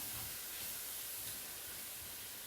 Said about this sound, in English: When it starts sizzling, you need to make sure that you're just moving the meat around